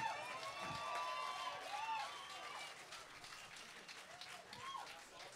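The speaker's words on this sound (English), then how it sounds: "Gentlemen, put your hands together one more time." Applause from a concert audience at a blues rock show rolls on as continuous clapping, with scattered whistles and cheers rising over it, moderately distant and fading slightly toward the end.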